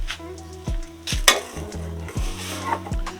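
A spoon scrapes and clanks rhythmically in a pan of water, oil and salt at an outdoor village cooking setup, giving several sharp metallic knocks over a soft simmering hiss, close and without speech.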